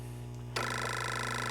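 Telephone ringing on a line being dialed in a repair shop, a steady ringing tone starting abruptly partway through over a constant low hum, with no talk.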